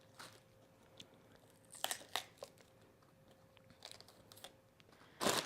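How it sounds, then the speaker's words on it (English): A big knife cuts through a raw cauliflower, giving several sharp crunching cracks in uneven bursts, close and fairly quiet, with a louder final crunch at the end. "I can just straight up cut this cauliflower"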